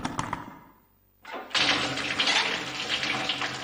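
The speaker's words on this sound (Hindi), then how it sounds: "चलो मैं बाथटब में पानी भर देती हूँ" A tap fills a bathtub in a cartoon household scene, a short clatter followed by a burst of water that becomes a steady, close rushing stream.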